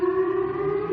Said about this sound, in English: It's like an air raid siren.